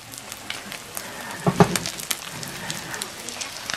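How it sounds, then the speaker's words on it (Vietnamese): Snail eggs frying in a pan, a steady crackling sizzle with a brief louder spatter in the middle, close by and without talk. "Bây giờ mình sẽ chiên trứng ốc lại."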